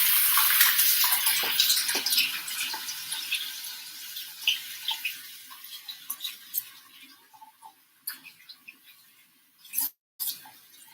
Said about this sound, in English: And then I put water on it every morning